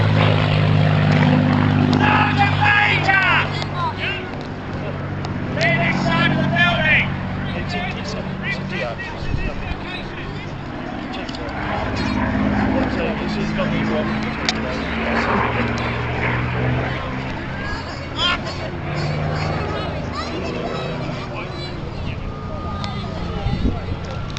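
A Spitfire's piston engine drones loudly overhead at a V.E. Day show at the Royal Gunpowder Mills, its roar swelling and fading as the plane passes, with crowd noise and talk underneath.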